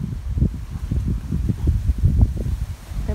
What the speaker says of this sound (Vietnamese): Hôm nay Cali trời gió,